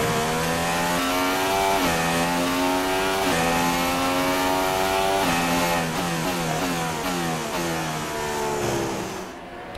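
Formula 1 car engine in F1 2016 racing at Shanghai, a loud high-pitched whine repeatedly climbing through the gears, with short drops on shifts and braking, close and continuous.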